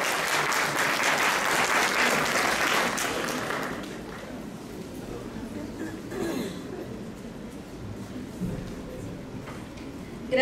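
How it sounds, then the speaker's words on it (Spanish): Loud audience applause at a psychopedagogy conference, sustained clapping from a crowd that fades to a softer patter after a few seconds, heard up close in a hall. "Entonces, un fuerte aplauso."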